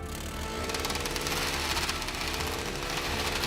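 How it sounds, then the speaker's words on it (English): A homemade lawnmower shreds paper: a steady, loud mechanical buzz with rapid rattling chatter running throughout, dense and continuous from start to finish. "it's shredding this paper"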